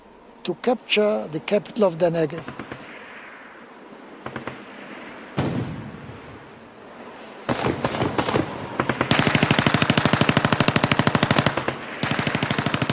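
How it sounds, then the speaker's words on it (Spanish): Bursts of rapid automatic gunfire and single shots, some sharp and close, others in long rattling volleys, with brief pauses between, in a battle for a fort. "Después de un intercambio de disparos,"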